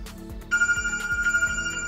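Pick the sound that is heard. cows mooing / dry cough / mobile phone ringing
mobile phone ringing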